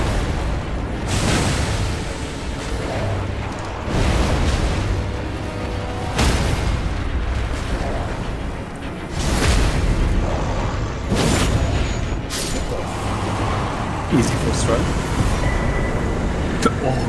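A jar cannon in the video game Elden Ring fires repeatedly, sending loud, deep booms at irregular intervals over a rumbling backdrop, while players talk over the action.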